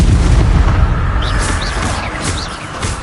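Spell cast of Expelliarmus in Hogwarts Legacy, a loud booming magical burst with rumbling low impact and brief whooshing flourishes, continuous and forceful across the whole moment.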